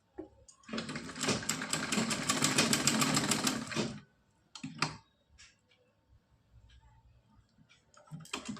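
A sewing machine stitches net fabric in a fast, loud rattling burst of about three seconds, then stops, followed by a few short clicks and handling taps.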